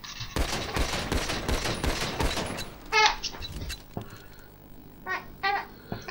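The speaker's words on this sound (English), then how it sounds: "so that was the S&S pistol" Rapid S&S pistol shots in GTA V fire in a dense, continuous volley against tank armor for about two seconds, followed by a few shorter, separated bursts, loud and close in the game mix.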